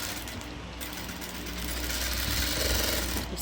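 A sewing machine stitches lace onto a little girl's ruffle frock, running in a steady, continuous close mechanical whir for the whole stretch with no talking.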